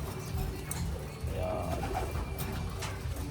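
Racing pigeons in a loft coo steadily in low, throaty murmurs that run through the whole stretch, close and continuous, with a few faint higher chirps and rustles over them.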